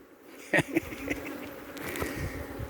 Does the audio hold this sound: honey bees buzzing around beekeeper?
yes